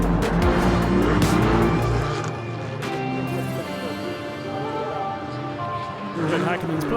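Race car driven hard at the Race of Champions in Sweden, engine roaring and revving with a brief tire squeal, loud and close, while someone talks over it.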